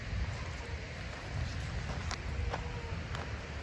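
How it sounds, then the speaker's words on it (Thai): Loud, steady rushing water from a flowing stream fills the scene, a dense continuous wash of noise with occasional brighter splashes, no voices. "เสียงน้ำค่อนข้างดังเนาะ"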